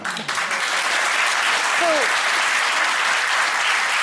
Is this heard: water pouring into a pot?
no